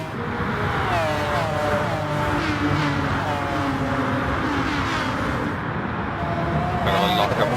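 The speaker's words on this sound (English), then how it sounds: "Cars file through the bridge section" Race cars file one after another through the bridge section of the St. Croix circuit in a racing game. Their engines rise and fall in overlapping drones under steady crowd-like noise.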